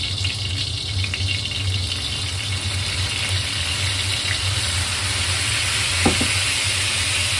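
Shallots and fish sauce frying in a hot wok give a steady, loud, close sizzle that continues without a break, with a faint brief clink near the end.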